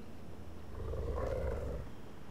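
A Worgen howl in World of Warcraft comes out as a low, gurgling rumble much like a stomach growl, brief and faint over a dull background, with no speech.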